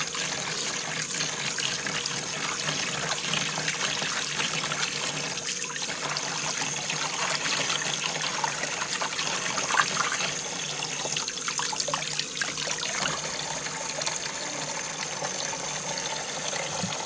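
Tap water runs steadily into a basin being filled for a loc soak with apple cider vinegar, a continuous close trickle and splash that holds even throughout with no talking.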